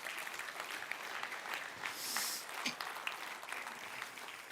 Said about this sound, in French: Voulez-vous dire un grand Amen et applaudir avec moi?